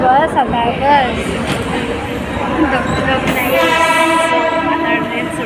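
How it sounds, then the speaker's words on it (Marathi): A suburban train pulls out of a station heading toward Ghansoli, with loud rumbling and rail clatter, a horn sounding near the end and people talking throughout. "आता ट्रेन सुटली आमची."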